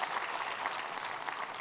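A conference audience gives a round of applause for sponsors, a brief burst of steady, many-handed clapping in a large room, moderately distant and alone without talk.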